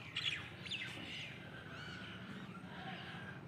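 Small birds chirp and tweet in bursts over steady background noise while they gather to feed on scattered grain in the morning, with occasional harsher calls mixed in.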